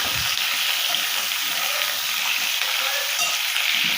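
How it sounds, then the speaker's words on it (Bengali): Pointed gourd and potatoes fry together in hot oil with dried chilli, a loud, close, steady sizzling hiss that continues without pause. "পটল আর আলু একসঙ্গেই আমি দিয়ে দেবো, দিয়ে একটু ভাজবো।"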